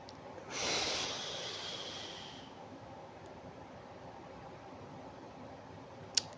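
A single strong breath, close and loud, swells and fades over about two seconds during a rhythmic breathing exercise. Near-silence follows, broken by one brief click.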